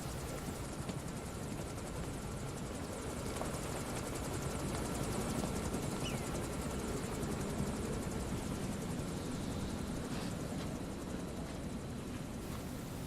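Helicopter in the video game Metal Gear Solid V, a steady, fairly quiet rotor drone that holds unchanged throughout with no talk over it.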